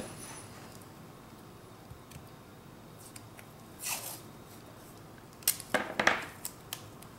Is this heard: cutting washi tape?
yes